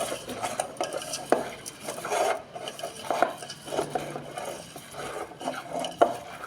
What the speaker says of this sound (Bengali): সব দিয়ে দিলাম, দিয়ে ভালো করে এটা মিশিয়ে নিলাম।